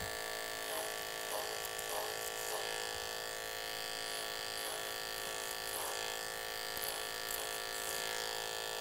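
Electric hair clippers run in a steady, close, continuous buzz while cutting an undercut with a 1/2 inch guard, with brief repeated strokes through the hair and no talking.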